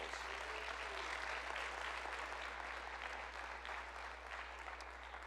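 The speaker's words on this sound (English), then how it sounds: "how about a round of applause for all these individuals?" Faint, distant applause from the crowd at a university opening session, a steady soft patter of many hands lasting several seconds over a low electrical hum.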